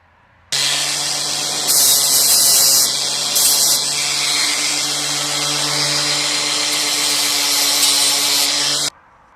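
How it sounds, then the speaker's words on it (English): A power grinder whines steadily for about eight seconds as it tidies up drilled holes in a metal gate post, starting and stopping abruptly, with a bright grinding hiss that rises in a few spots as the tool bites. "and tidy up with a grinder."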